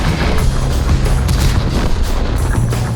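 Tank battle in World of Tanks, a T-28 pushing toward a capture zone under incoming fire: a dense, loud, continuous roar of rumbling engine and thudding gunfire with repeated booms, close and unbroken throughout.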